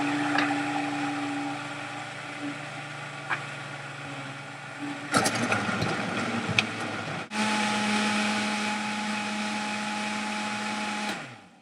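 A blender whirs through a spinach smoothie, running at a steady low hum, then surging louder and rougher midway as the speed rises, settling into a high steady whine before cutting off abruptly.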